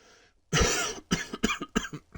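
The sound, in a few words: cough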